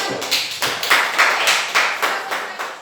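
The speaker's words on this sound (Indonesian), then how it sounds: "tepuk tangan untuk kelompok 1" A classroom group claps for group 1 in an Indonesian lesson, a handful of people giving quick, somewhat uneven rhythmic claps, about ten distinct beats, moderately close with no talk.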